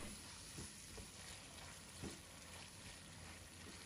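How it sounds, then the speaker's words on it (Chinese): Chicken breast with onion and seafood mushrooms stir-fries in a wok with soybean paste, soy sauce, oyster sauce, sugar and pepper, giving a faint continuous sizzle with soft scraping stirs. "再加一点点的胡椒粉，继续翻炒均匀"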